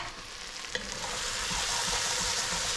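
Onions fry in a pot, a steady crackling sizzle that rises after a short scrape of stirring, continuous and close with no talking.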